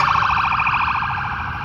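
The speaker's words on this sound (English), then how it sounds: "the way the ambulance runs around here" An ambulance siren wails in a street in Pattaya, Thailand, its rapid, regular up-and-down tone loud and close, then fading slightly as it passes.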